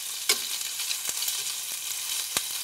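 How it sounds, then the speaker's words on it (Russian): A raw ingredient, eggs for breakfast sandwiches, fries lightly in a pan with a steady soft sizzle, broken by a few sharp clicks of stirring or utensil taps against the pan and no voices. "Его нужно слегка обжарить."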